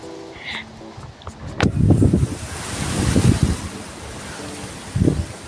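Strong outdoor wind buffets the microphone in rough gusts, a broad roaring rush that swells and fades several times.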